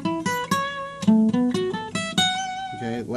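Plucked string instrument played in a string-skipping pattern, a quick run of distinct picked notes jumping between strings at a steady moderate pace, clear and close with no talking.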